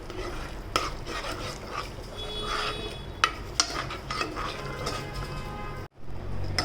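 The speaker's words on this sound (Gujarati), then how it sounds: "અને એમાં નાખી દઈશું આપણે થોડીક ચટણી અને થોડી હળદર અને મસ્ત એવું મિક્સ કરી નાખશું આપણે" A spoon stirs chutney and turmeric into vegetables cooking in a pan, with soft scraping and gentle sizzling plus a few sharp clinks against the pan, no speech.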